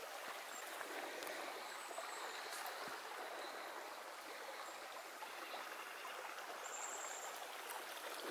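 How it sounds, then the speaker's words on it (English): Natural mountain spring water flows in a soft, steady trickle, faint and even throughout. "A natural spring."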